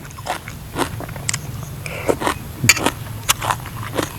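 Spicy pounded lotus stem salad with fresh shrimp is bitten and chewed up close, giving loud, crisp crunches that recur irregularly over a low background hum.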